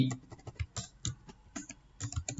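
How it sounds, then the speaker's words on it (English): Quick bursts of clicking keys on a computer keyboard, close and crisp, typed in short uneven runs with brief pauses between. "suppose I am typing tea"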